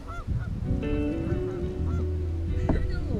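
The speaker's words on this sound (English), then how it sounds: "More geese." Several geese honk repeatedly nearby, their calls overlapping in a noisy, continuous flurry.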